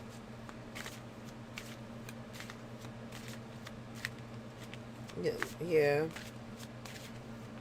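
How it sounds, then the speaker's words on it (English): Tarot cards being shuffled by hand in a repeated series of soft, crisp riffling ticks at a steady pace, a brief louder flurry near the end, with a voice speaking briefly alongside. "I'm sorry, I'm still shuffling because I just don't feel it yet."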